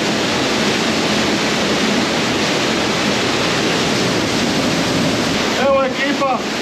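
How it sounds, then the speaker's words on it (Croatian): Floodwater gushing out of the swollen Kotluša cave near Vrlika, a loud, steady roaring rush that fills the whole scene, with a brief voice near the end. "Pogledajte kako šiba ta voda, kako izlazi iz dubina Dinare."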